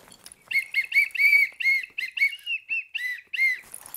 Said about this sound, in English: Let's try out the whistle.